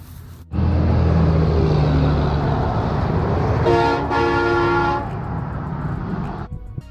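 A loud, sustained vehicle horn blares over heavy rumbling road noise, holding a steady chord for over a second before cutting off.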